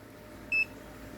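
A single short electronic beep from a Deli DL334203 clamp multimeter in continuity mode sounds, high-pitched and clear, against faint background hiss.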